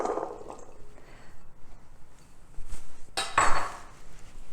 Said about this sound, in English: So to my bowl, I'm gonna add chickpeas, which I've already drained and rinsed really well.